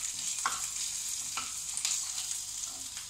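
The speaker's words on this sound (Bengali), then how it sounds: "এবার আমি এর মধ্যে দিয়ে দেবো কুচিয়ে রাখা লঙ্কাগুলো দিয়ে আবার কিছুক্ষণ নাড়িয়ে নেব" Chopped chillies are stirred into semolina upma frying in a pan: a low steady sizzle punctuated by three or four short scraping strokes of a spoon, close and quiet, no voices.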